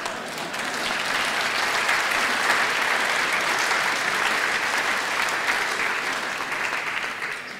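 Theater audience applauding after a speech at a lecture event, a dense steady clatter of many hands that holds loud and even for several seconds, with no voices over it.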